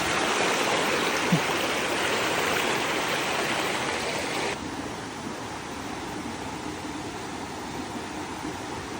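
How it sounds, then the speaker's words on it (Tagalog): The Mampili River on Mt. Labo rushes steadily downhill, a loud, dense, continuous wash of flowing water that drops slightly in level midway and holds without pause. "rinig din ang pag-agos ng tubig mula sa taas"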